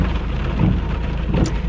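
Heavy rain pounding outside a moving car, a loud continuous wash of noise with a low rumble of thunder and road noise beneath.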